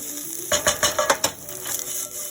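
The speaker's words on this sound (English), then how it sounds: "Get that stirred in also." Sausage and potatoes are stirred in a Ninja NeverStick pan over medium heat for a big egg breakfast, with a run of rhythmic scraping strokes over a soft sizzle, then quieter frying.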